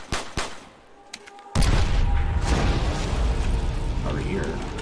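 A stick grenade goes off in a zombie shooter game: a sudden loud blast that settles into a long, rumbling roar after a few sharper pops, with a voice briefly heard over it.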